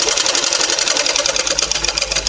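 A sewing machine runs steadily while stitching a strip onto a blouse, giving a loud, fast, continuous mechanical whir up close with no talk.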